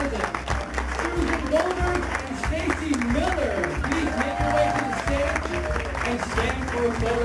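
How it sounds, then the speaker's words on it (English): Audience clapping steadily at an architecture design awards gala as honorees head to the stage, a broad sustained wash of applause with music and voices mixed underneath. "Let's give them a round of applause."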